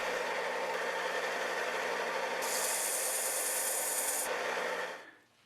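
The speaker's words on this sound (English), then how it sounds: "When the glue is dry, remove the clamps and sand the face and edges." Glued wood panel face and edges being power-sanded, a steady loud whirring and abrasive hiss with a brighter rasp midway, close up, then winding down and stopping at the end.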